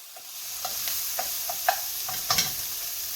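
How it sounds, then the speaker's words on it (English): Onions cook down in a pan for a creamy mushroom sauce, giving a steady, moderate sizzle with a few soft clicks of stirring scattered through, close and even, with no one talking. "I've got to cook the onions down a little bit."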